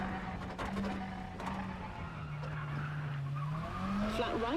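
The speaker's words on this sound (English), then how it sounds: "Definitely hear the gear changes." A Group B rally car in the WRC 10 video game drones at high revs with audible gear shifts dropping the engine pitch, tires skidding and squealing near the end, steady and close.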